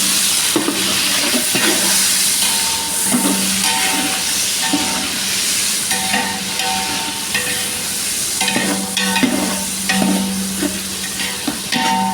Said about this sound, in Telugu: ఇదిగోండి ఉల్లిపాయలు ఏగుతున్నాయి